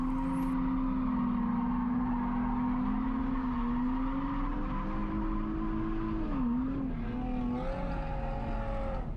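A car drifting at a drift event, its engine holding a loud sustained high rev with tire squeal, the pitch wavering and dipping as the car transitions, heard close and continuous.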